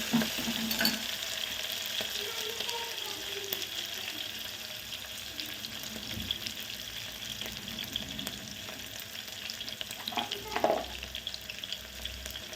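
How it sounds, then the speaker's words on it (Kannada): Curry leaves and green chillies crackle in hot oil in a pan while a pulao is being made, giving a continuous close sizzle broken by occasional stirring scrapes and clinks. "ಮೆಣಸಿನ್ಕಾಯಿ ಆದಮೇಲೆ ಕರಿಬೇವನ್ನ ಹಾಕ್ತೇನೆ"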